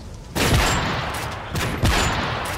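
Gunfire in a shooting video game: a loud burst of shots followed by another sharp shot later, close and dominant, with no speech.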